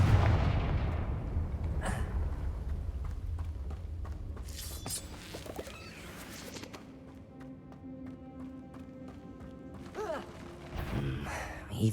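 A Confringo fire spell in Hogwarts Legacy lands with a booming, rumbling blast, then several smaller thuds and crackles follow at moderate loudness amid game background sound.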